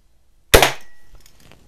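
An Air Venturi John Wayne Lil' Duke lever-action BB repeater fires once, a sharp close snap followed by a short metallic ring and faint trailing noise.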